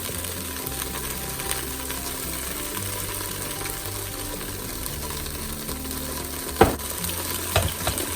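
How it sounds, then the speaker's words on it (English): Onions cook in olive oil in the pot of an Instant Pot beef stew, a continuous soft sizzle with faint scraping of a utensil and a couple of louder knocks late on. "And then I'm going to let the onions cook first."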